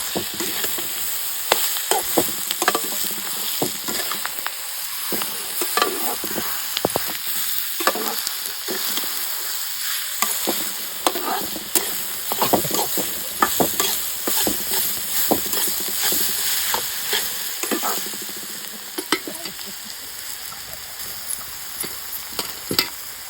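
Onions sizzle and fry in hot oil while being stirred, with continuous crackling and frequent scraping of a spoon against the pan, close and busy.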